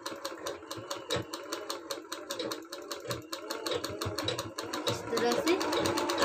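A sewing machine stitches the side seams of a lined blouse, its rapid, even needle clatter running in quick bursts throughout, close and clear, while someone talks over it.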